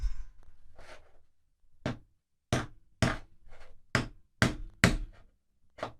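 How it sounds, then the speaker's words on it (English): A rock hammer strikes a lump of aragonite mineral again and again, giving about ten sharp, close knocks in an uneven rhythm with short pauses between them. "now I've got my rock hammer. We're going to smash this"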